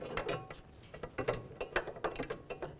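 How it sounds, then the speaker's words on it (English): A torque wrench tightens a caliper bracket bolt on a 2005-2009 Subaru Outback during a rear brake job, giving a close run of quick ratcheting clicks in uneven bursts with no talk. "So now I'm going to torque it to the factory specs."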